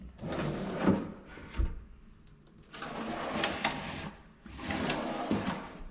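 A kitchen drawer beneath a stove slides open and shut a few times with soft rolling rumbles and a dull bump, close by in a quiet, empty new house.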